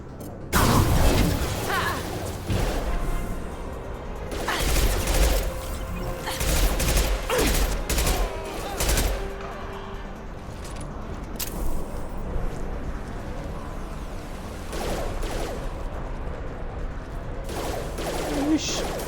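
Bursts of gunfire from the sci-fi shooter game Mass Effect 2, repeated mechanical shots and impacts scattered across the stretch, with game sounds and a few faint voices in the background.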